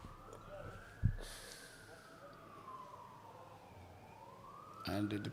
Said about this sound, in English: As we can hear that siren in the background.